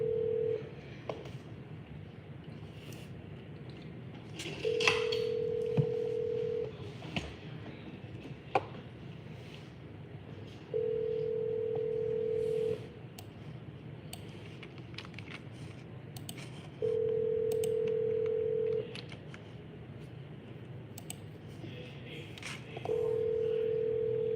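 A phone call placed through Google Voice rings out as a repeating steady electronic ringback tone, about two seconds on and several seconds off, over a quiet room with faint background noise.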